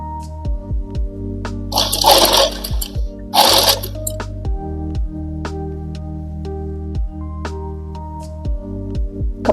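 Domestic sewing machine running short bursts of stitches on a straight palazzo pant pocket, with clear rhythmic mechanical clatter starting and stopping, plus two brief rustling swishes of fabric being moved, close and alone without talk.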